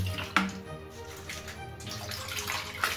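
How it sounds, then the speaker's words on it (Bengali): Cold water poured over boiled spinach in a kitchen and left to drain, heard close as a short steady splash with a brief louder gush at the start and another near the end. "ঠান্ডা জল মিশিয়ে দিয়ে জলটাকে ঝরাতে দেবো।"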